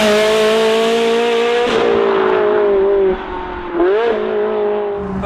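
A Ferrari 360 Challenge Stradale engine revs hard and close, pausing briefly at the shift from first to second, then dipping and climbing again as it accelerates. No voices accompany the engine.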